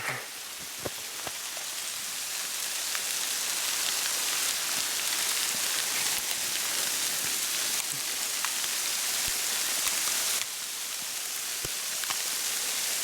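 Hail falling on a forested ridge in New Zealand, with snow dropping from the trees; a dense, continuous patter of small ice pellets hitting foliage and ground, with scattered sharper individual ticks, steady and moderately quiet.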